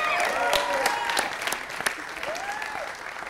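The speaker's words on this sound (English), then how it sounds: "Give him a nice round of applause" An audience applauds steadily, a dense wash of clapping with a few voices and cheers rising over it.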